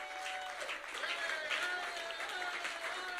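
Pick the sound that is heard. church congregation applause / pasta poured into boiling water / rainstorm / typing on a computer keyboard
church congregation applause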